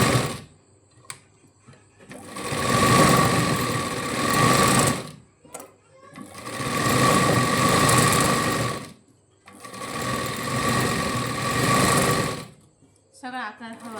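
A sewing machine stitches a sleeve seam in three long, loud bursts of rapid whirring and clatter, separated by short pauses with faint handling noises.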